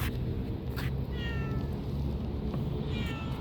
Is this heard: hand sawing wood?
no